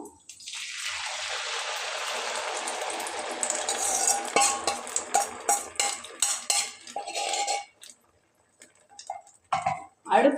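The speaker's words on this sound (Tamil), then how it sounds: "நம்ம அரைச்ச விழுதை இதில் மெதுவாக சேர்க்கணும்" Ground rice paste is stirred into a tempering of chana dal and curry leaves in a pan, giving a steady wet sizzle with repeated spoon scrapes and clinks that fade to near silence before a few final knocks.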